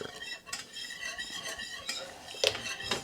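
A utensil whisks and stirs a thick burger sauce of mayo, ketchup, relish, hot sauce and Worcestershire in a bowl, with quick scraping clinks against the side, close and fairly quiet.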